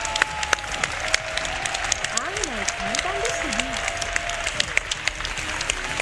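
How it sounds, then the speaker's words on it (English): A crowd at the Combo Breaker 2023 Tekken 7 grand final applauds after the winning round, a continuous wash of clapping and cheering with a few sharper claps standing out. "I'm sure there's gonna be a lot of clapping."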